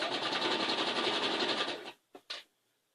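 A sewing machine stitches quilt blocks in a steady, fast, even run, then stops with a couple of short mechanical clunks, close and clear.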